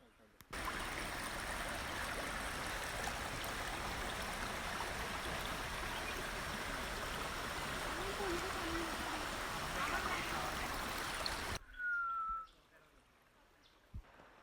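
Stream water rushes at Sahasradhara waterfall in a loud, continuous roar that cuts off abruptly near the end, leaving quiet background with faint sounds.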